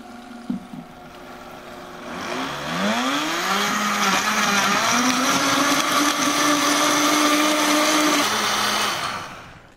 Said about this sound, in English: if you have a high-speed blender, it probably came with a tamper